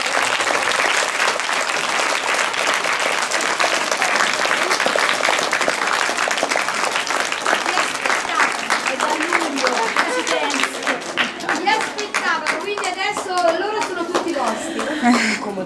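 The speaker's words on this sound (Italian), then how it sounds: "Bimbi, facciamo un applauso alla..." Children applauding in a school setting, sustained clapping from a group of kids filling the room, then fading out as a voice and children's chatter come through.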